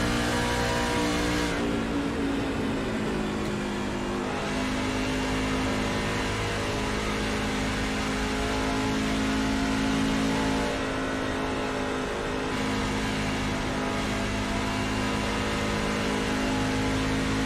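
A race truck engine roars steadily at high revs through turn one at Indianapolis Motor Speedway, loud and close, with a brief lift off the throttle before pulling hard again.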